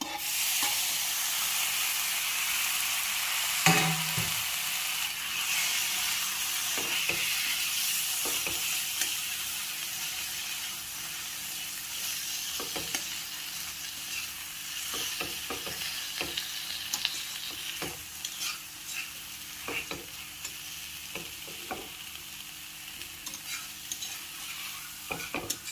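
Eggplant frying with spices in a pan, with a steady hiss of sizzling oil broken by repeated clinks and scrapes of stirring utensils against the pan.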